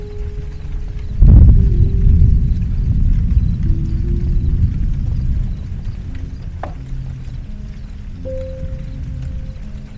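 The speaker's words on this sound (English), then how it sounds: "The sounds of late summer thunderstorms." Late summer thunderstorm at sea: a sudden loud thunder crack and deep rolling rumble that slowly fades, with steady rain underneath and faint tonal background sounds, no talk.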